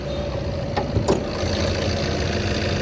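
A used Tata Nexon XMA diesel with about 80,000 km on it idles steadily nearby, giving a smooth, low continuous hum with faint mechanical clatter and no voices.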